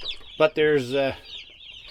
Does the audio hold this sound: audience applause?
no